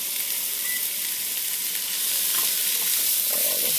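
Vegetables stir-frying in oxtail fat in a hot pan, giving a dense, even, bright sizzle close up with faint stirring clicks, steady throughout and free of speech.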